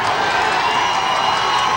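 A stadium crowd at a football game at War Memorial Stadium in Little Rock roars steadily and loudly during a fourth-down play late in the game. The sound is dense and unbroken, with no single voice standing out.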